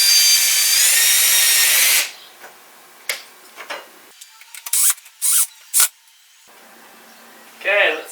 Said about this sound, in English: I got my extension tip on the drill, which is going to help